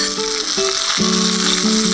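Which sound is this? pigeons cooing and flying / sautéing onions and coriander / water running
sautéing onions and coriander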